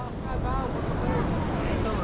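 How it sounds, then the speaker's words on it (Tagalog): Strong wind buffeting the microphone outdoors near water, a loud continuous low rumble filling the whole stretch, with talking faintly mixed in. "Ito, hangin."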